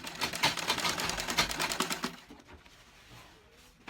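A sewing machine stitches the neckline of a princess bustier in a fast rhythmic run of needle clatter for about two seconds, then stops, leaving quiet room noise.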